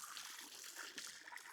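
Water trickles and splashes out of a two-piece pool lounger lifted up on the ledge of a vinyl pool, a faint, steady draining with small spatters and no talking.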